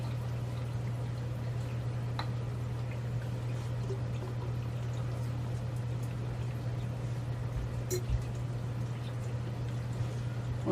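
Liquid pours steadily into a bottle for an algae turf scrubber setup, a soft continuous trickle over a low steady hum with a few faint drips.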